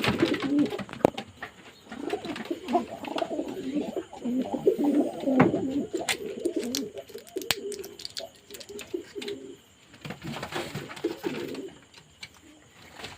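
Domestic pigeons coo continuously in soft, overlapping rolling phrases, close and steady, with a brief pause near the end before the cooing resumes.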